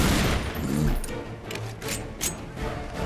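Gunfire from a weapon in Tomb Raider Anniversary, a rapid fusillade of loud shots rattling in bursts over continuous game noise for about three seconds.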